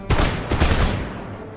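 A musket volley in the Empire Total War video game: two close, loud bursts of massed gunfire crackle in quick succession, then tail off into a fading rolling echo.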